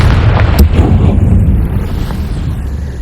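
Confringo fire spell explosion in Hogwarts Legacy: a loud, heavy boom with a sharp crack early on, then a rumbling tail that slowly fades over a few seconds.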